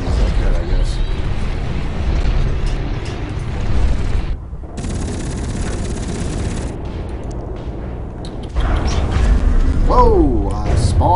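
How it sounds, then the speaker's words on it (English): Gunfire and explosions from the Hawken mech combat game, a dense continuous barrage of shots and booms with a brief lull midway, loud and close, with a player's voice talking over parts of it. "I spawned into gunfire."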